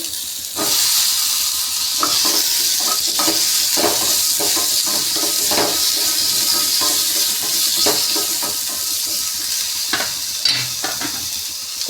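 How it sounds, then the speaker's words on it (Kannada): Garlic and chopped tomato hit hot oil in a pan, producing a loud continuous sizzle with frequent stirring scrapes and clacks, close up and alone. "ಬೆಳ್ಳುಳ್ಳಿ ಹಾಕೋತಾ ಇದ್ದೀನಿ ಹಾಗೆ ಒಂದು ಟೊಮೊಟನ ಕಟ್ ಮಾಡಿ ಹಾಕೋತಾ ಇದ್ದೀನಿ"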